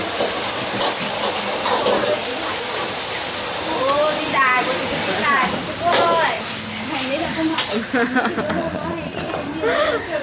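Beef and green onions stir-fried in a hot pan at a Vietnamese cooking spot, a steady loud sizzle and hiss with utensil scraping, while people talk over it throughout.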